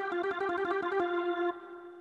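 An electronic keyboard plays a quick run of rapid, evenly repeated notes over a held tone, fairly quiet and close, ending in a single sustained note with no talking.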